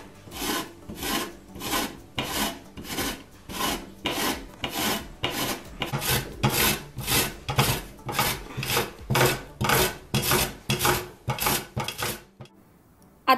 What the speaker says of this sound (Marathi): नंतर किसणीवर कैऱ्या आणि कांदे दोन्हीही किसून घ्यायचं